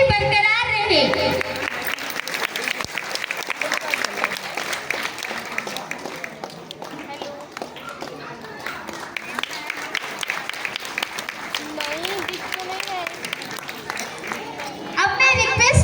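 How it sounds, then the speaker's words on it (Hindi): A crowd at a school annual day celebration applauds in dense, sustained clapping that fills the whole stretch, loud and close, with faint voices mixed in. "और तालियों की गूंज ऐसे ही बरकरार रहे।"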